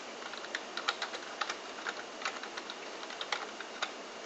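Fingers tap at a moderate, uneven pace on a computer keyboard, with crisp, fairly close keystrokes and no talking.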